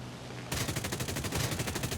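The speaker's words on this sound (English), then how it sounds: "these machine guns are so good" SAAB 21 aircraft machine guns and 20mm cannon firing in War Thunder: after a brief quiet moment, a sustained rapid burst of evenly spaced shots, loud and close, continuing to the end.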